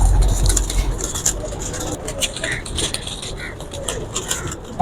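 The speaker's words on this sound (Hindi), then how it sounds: "कबूतर तंग हो रहे हैं" Pigeons kept in a cage on a rooftop coo softly in short, scattered calls, close by, with a vehicle engine rumbling in the background.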